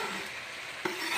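Onions go into a hot pan of potatoes on medium-high heat, giving a steady, close sizzle and stirring noise with a brief clink near the end, no talk.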